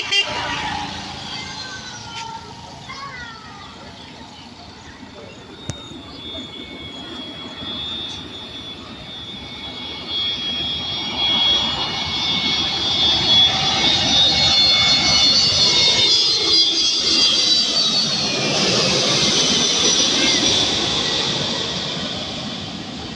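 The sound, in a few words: airplane passing low near Katunayake airport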